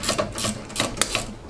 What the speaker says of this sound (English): Look at that fancy ratcheting wrench.